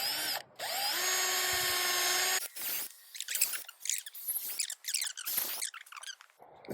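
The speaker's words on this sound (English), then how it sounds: "You gotta drill into like a nice looking part of the tree" A cordless drill bores a 5/16 inch tap hole low on the sunny side of a maple tree outdoors, one steady close whine for about two seconds, then stopping, followed by scattered rustling and handling noises.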